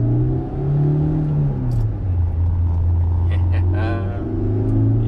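A Proton Iriz 1.6L Premium with a manual gearbox accelerates, its engine note rising in pitch and then settling into a steady, loud drone inside the cabin.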